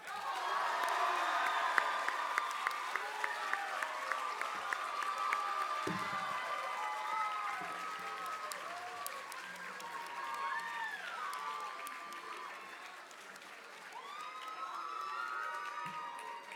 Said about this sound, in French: Une bonne main d'applaudissements, quand même.